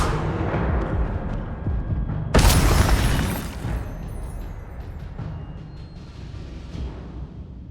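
Incendio fire spell cast in Hogwarts Legacy, a sudden loud whooshing burst that flares and then fades into a lingering rumble amid ongoing game ambience, no voices.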